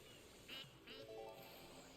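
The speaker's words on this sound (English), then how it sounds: "I hear a duck." A duck quacks in the video game Astro Bot, two short faint quacks spaced about half a second apart over a quiet background with no speech.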